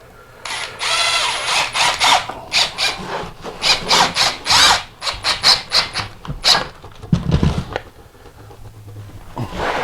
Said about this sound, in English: Now I'm just going to go through and put some screws in again,